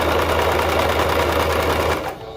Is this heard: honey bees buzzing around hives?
no